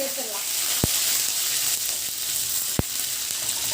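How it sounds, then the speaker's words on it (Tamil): Curry leaves, cinnamon, cloves and bay leaf sizzle in hot oil for a mutton gravy, a steady close crackling fry with a couple of sharp pops. "அதான் கூட கருவேப்பிலை எண்ணெயிலே சேர்த்துடலாம்."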